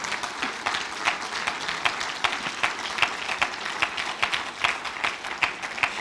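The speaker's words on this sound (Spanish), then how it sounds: "Démosle un fuerte aplauso al Señor." A church congregation at a Spanish-language Christian service gives a sustained round of applause, with brisk, steady clapping from many hands filling the room at moderate volume and no talk over it.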